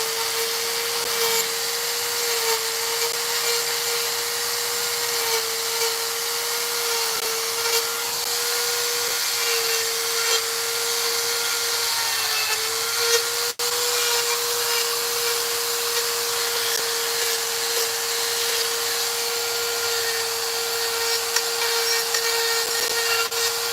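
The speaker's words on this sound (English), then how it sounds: "that's pretty daggone powerful little blower" A small but powerful blower clears dust while a six-foot wooden bear is carved, a steady high whine holding one pitch with a broad hiss, loud and constant throughout, no speech.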